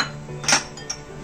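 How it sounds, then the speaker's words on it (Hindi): Chopped onion tipped into a bowl for a vegetable sandwich filling, giving one short clink of the bowl midway, with a fainter knock just after, against a quiet kitchen background. "हम बाउल में ये अनियन डालेंगे,"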